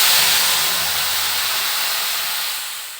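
Spice paste of cumin powder and chilli hits hot oil already fried with black cumin for chicken kosha, letting out a loud, close burst of hissing sizzle that fades slightly over three seconds.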